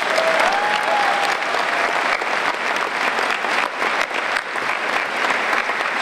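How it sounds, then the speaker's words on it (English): A Comic Con panel audience applauds the show's crew with loud, dense, steady clapping and a faint murmur of crowd noise throughout. "they deserve a round of applause"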